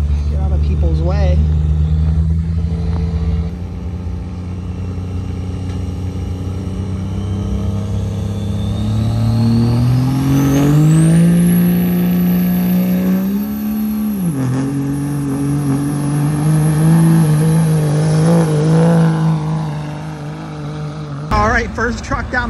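A heavy diesel four-wheel-drive street truck at a truck and tractor pull rumbles and revs hard, climbing in pitch as it accelerates away down the track, loud and sustained, then drops off abruptly.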